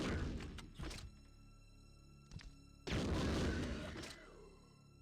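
Grenade launcher fire in Resident Evil 2 (1998): two heavy booming thumps about two seconds apart, the second followed by a long rumbling blast, over a quiet low hum.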